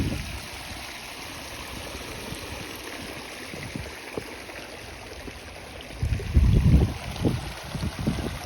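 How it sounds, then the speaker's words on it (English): Kinder Downfall, the largest waterfall in the Peak District, gives a steady distant rush of falling water on a windy day, with a louder gust of wind near the end. "Kinder Downfall is the largest waterfall in the Peak District"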